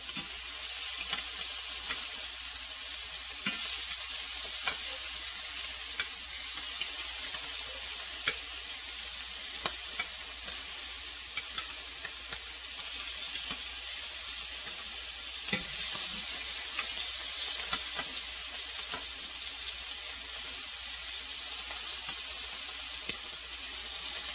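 Scallops searing in a hot pan give a steady, dense sizzle with scattered crackles and occasional stirring clicks, close and continuous with no talk.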